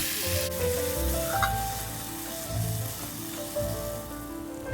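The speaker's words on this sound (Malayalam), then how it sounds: "തക്കാളി ചേർത്ത് നല്ലപോലെ മിക്സ് ചെയ്ത് കൊടുക്കുക" Onion and tomato frying in a pan give a continuous close, even sizzle with faint stirring, with no voices.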